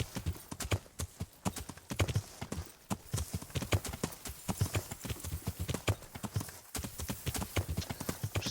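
A horse's hooves clip-clop in a steady, rhythmic trot in the video game Kingdom Come: Deliverance. The beats are close and clear and continue unbroken throughout.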